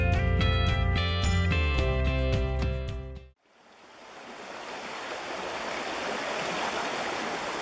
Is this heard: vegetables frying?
no